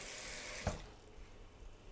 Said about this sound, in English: what I'm going to do right now is run some water into the bowl